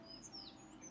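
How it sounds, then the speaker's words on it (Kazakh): Faint, thin chirps of sparrows come from a distance over a steady low background hum. "Анау жақта торғайлар шырылдап тұр."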